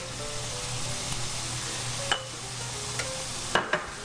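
Garlic frying in a pan with quinoa and dried seaweed gives a steady, close sizzle, with a few light scraping clicks as it is scooped around.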